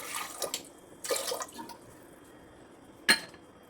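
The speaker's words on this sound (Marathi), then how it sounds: "कुकरमध्ये पाणी घालायचं" Water is poured into a pressure cooker in a home kitchen while idli and sambar are being made: two short splashing pours, then quiet, then a single sharp clink near the end.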